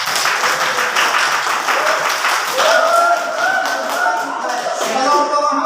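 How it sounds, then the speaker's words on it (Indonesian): Classroom applause for a group of students, a steady burst of clapping from many hands that carries through the whole stretch, with a few children's voices rising over it near the end. "tepuk tangan dulu untuk kelompok 1."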